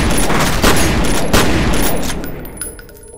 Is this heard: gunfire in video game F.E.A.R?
yes